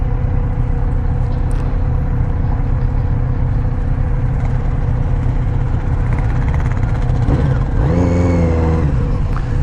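A 2021 Kawasaki Z900RS motorcycle engine drones loudly and steadily while riding, its pitch rising in a rev toward the end, constant and close with no voices.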